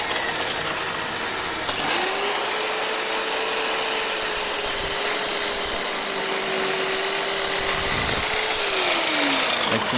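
A power saw whines steadily through scrap hardwood, a loud, close, continuous cut with a sustained hum that dips as the blade finishes the pass.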